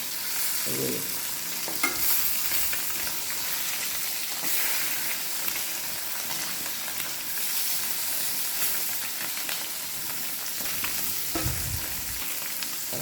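Pabda fish frying lightly in a hot pan, a steady close sizzle with occasional stirring scrapes and crackles running throughout.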